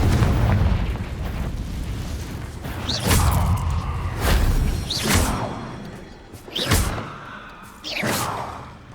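Confringo fire spells blasting in Hogwarts Legacy, a game, with several loud booming bursts spaced about two seconds apart, each with a sharp whooshing crack over a low rumbling background.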